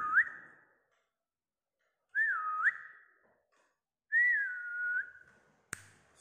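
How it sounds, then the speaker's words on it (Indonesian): A female red eclectus parrot gives three short rising and wavering whistles spaced a couple of seconds apart, close and clear in a quiet room, followed by a brief click. "Sudah pintar bersiul ini ya."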